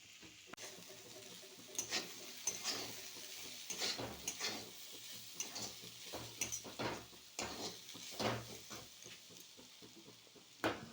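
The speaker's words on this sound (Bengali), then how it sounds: "ফুলকপি, গাজর, মটরশুঁটি সব কেটে একটু ভেজে নিচ্ছি" Cauliflower, carrot and peas frying in a pan, with steady sizzling broken by repeated scraping and stirring clatters from a utensil, close and fairly quiet, no voices.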